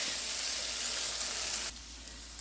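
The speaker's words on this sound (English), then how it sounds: "I'm just going to let them cook just a little bit more to get them a little bit more caramelized." Sliced onions sizzle and fry steadily in a hot pan while caramelizing for a steak, egg and cheese bagel, a dense hiss that drops suddenly to a quieter background near the end, with no talking.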